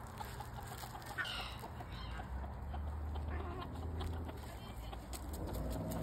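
Chickens cluck faintly among outdoor background noise at home while people talk nearby.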